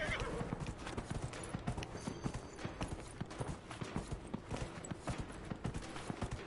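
Rapid, rhythmic hoofbeats of a galloping horse in the video game Dragon Age: Inquisition clatter throughout, with a brief whinny near the start; a voice speaks intermittently over them.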